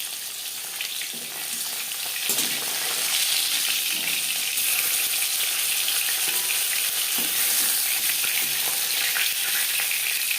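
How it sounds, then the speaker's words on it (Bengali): Rohu fish frying in hot oil in a pan, a dense continuous sizzle and crackle heard close and loud throughout, with occasional stirring scrapes. "মাছ ভাজা হয়ে গেছে, একটা পাত্রে উঠিয়ে নেব।"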